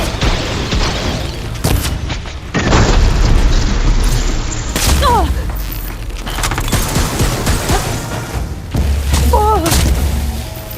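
A heavy cannon fires in the video game Horizon Forbidden West, with repeated loud booms and bursts during a battle, mixed with game music and character voices.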